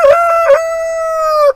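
A rooster on a homestead lets out one long, loud crow close by among chickens, with a couple of short throaty notes leading into a sustained call that cuts off sharply.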